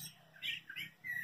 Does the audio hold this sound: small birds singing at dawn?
yes